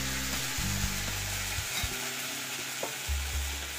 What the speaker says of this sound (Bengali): আদা রসুন দিয়ে একটু তেলের ওপর ভেজে নিতে হবে।